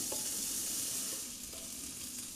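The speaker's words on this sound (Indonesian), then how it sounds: "Kemudian ini kita tumis sampai harum dan minyaknya" Ground spice paste sautés in oil in a wok, giving a steady, close sizzle with faint stirring scrapes throughout and no voices.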